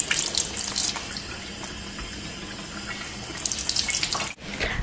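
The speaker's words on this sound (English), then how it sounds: "Now it's time to wash the tomatoes. Now you don't need soap, you're just gonna lightly rinse them in cold water." Cold tap water runs steadily from a faucet into a sink as tomatoes are lightly rinsed, a continuous close splashing stream with a brief interruption near the end.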